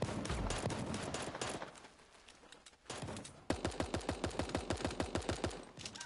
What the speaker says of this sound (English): I'm gonna apologize by shooting you again